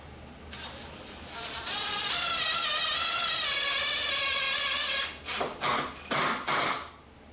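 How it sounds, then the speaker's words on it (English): A power drill whines steadily for a few seconds, rising and falling in pitch, pre-drilling wood, then several short bursts as a screw is driven in. "Again, pre-drilling before running the screw."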